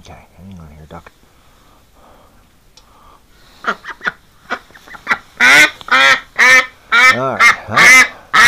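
Several loud, raspy duck quacks come in quick succession, close by, following a stretch of quiet low murmuring and soft sounds.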